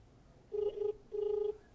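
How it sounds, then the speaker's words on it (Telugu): A phone ringing tone sounds twice, two short buzzing rings separated by a brief pause, fairly quiet against a faint background. "ఫోన్ రింగ్ అవుతుంది"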